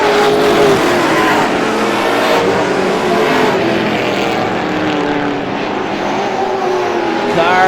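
Race cars lap Star Speedway during the GSPSS 100, their engines a loud, continuous roar that swells and fades as they run single file past, close and dominant throughout.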